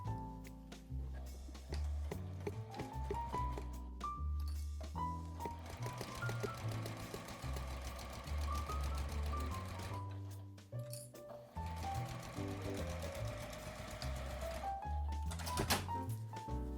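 A sewing machine stitches a small handled fabric pouch near the edge, running in fast bursts of rapid mechanical stitching with short pauses and light clicks between runs, close and fairly loud, with no talking.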